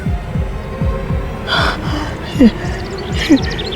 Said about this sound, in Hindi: तुम्हारे दिल की धड़कन भी बहुत तेज चल रही है।